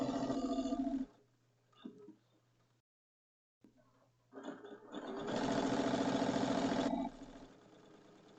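A sewing machine stitches a pillow seam in two fast bursts of rapid mechanical whirring, broken by a near-silent gap and quieter handling sounds, with the second run louder and sustained before stopping.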